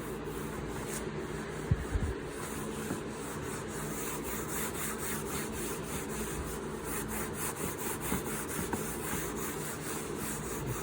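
Rag rubbing gel stain into a wooden cabinet, a continuous close scrubbing and rubbing texture with rhythmic back-and-forth strokes and a couple of small knocks.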